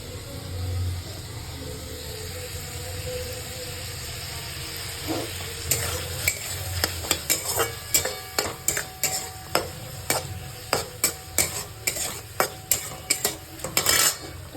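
Chopped green chillies go into a simmering tomato chutney, which sizzles quietly at first before a series of rhythmic, sharp stirring clinks and scrapes of a spoon against the pan, close and fairly loud.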